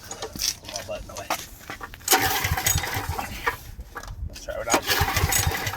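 Troy-Bilt 5550/8550 watt generator engine being pull-started, with a recoil cord yank and sputtering engine catching and revving up, someone talking over it.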